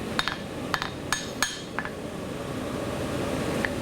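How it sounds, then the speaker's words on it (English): A hammer strikes a blade being forged flat during freestyle forging, five or six sharp ringing metallic blows in an uneven rhythm over the first two seconds, then only a low steady shop hum. "I use this hammer."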